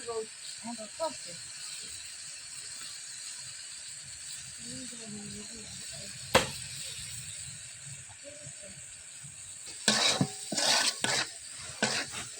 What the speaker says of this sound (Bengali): এখানে সব মশলা দেওয়া হয়েছে, মরিচ, হলুদ, লবণ, জিরা বাটা, সব কিছু দিয়ে এখন কষাইতেছে